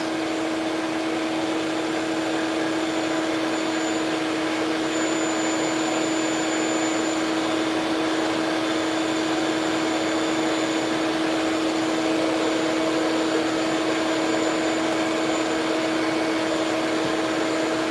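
A polishing machine runs steadily throughout with a constant, loud motor hum and airy whir, unbroken and without voices.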